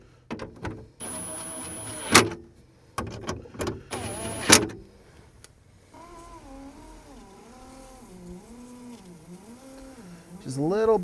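A Jeep Cherokee XJ's power rear window runs on its regulator, starting with a few sharp clunks and clicks, then a steady motor whine that wavers up and down as the glass travels slowly, close by.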